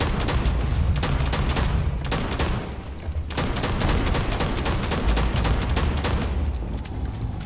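Continuous gunfire from a weapon in the video game Starfield: rapid, loud shots rattle almost without pause, with one brief lull in the middle.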